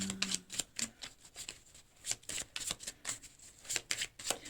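Tarot cards are shuffled and drawn by hand, a series of quick papery flicks and riffles in an uneven rhythm, close and fairly quiet, with a brief faint voice at the start.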